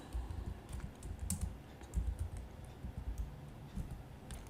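Typing on a computer keyboard during a Class 12 computer science lesson on updating file records, a run of fairly quiet, irregular key clicks and taps close by with no talking.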